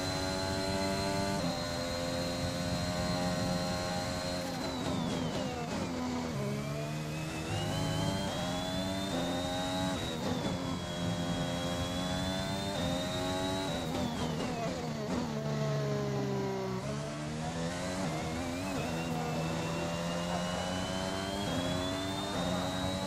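A Formula 1 car engine in the F1 2021 racing game, a loud high-pitched whine that climbs through gears with repeated upshifts and occasional drops as it lifts off, continuous and close with no talking.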